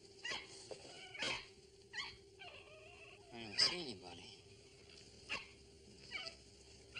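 A dog barks a few short, sharp times spread across the moment, fairly close, with a faint whimpering quality, while someone speaks over it in an indoor dramatic scene.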